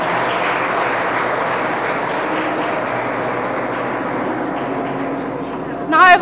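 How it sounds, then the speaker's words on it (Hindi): Sustained audience applause fills a hall at a coaching institute's stage event as a guest is invited up, steady and dense throughout, with a brief louder burst near the end. "तालियां बजती रहनी चाहिए।"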